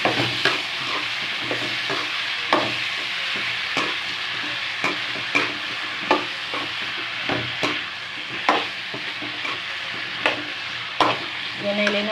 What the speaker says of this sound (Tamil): எடுத்து வச்ச கத்திரிக்காய் முருங்கைக்காவை போட்டுக்கோங்க நல்லா வதக்கி வச்சுக்கோங்க